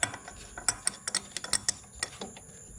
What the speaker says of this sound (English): So I've got my crescent wrench now. Take this off